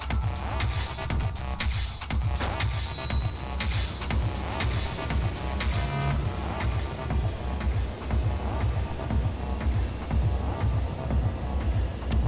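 A fixed-wing aircraft takes off in the Just Cause video game, with a steady, loud engine roar that holds throughout and a thin rising whine above it.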